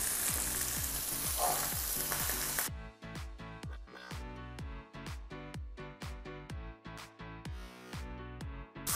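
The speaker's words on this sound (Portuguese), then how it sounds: "aqui já selei a minha paleta de todos os lados" A lamb shoulder sears in a hot frying pan, giving a loud, dense sizzle for a few seconds before rhythmic music takes over the rest.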